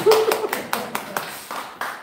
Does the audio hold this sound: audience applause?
yes